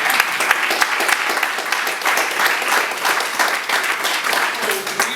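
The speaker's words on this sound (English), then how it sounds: "you can clap for that" An audience at a business presentation claps steadily, with a dense, even wash of applause filling the whole stretch.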